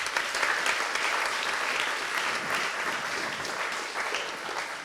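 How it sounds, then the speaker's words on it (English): An audience at the Big Leeds Climate Conversation claps in a dense, steady wash of applause that holds at an even level throughout, close and full, with no speech over it. "Can we also have a round of applause for you"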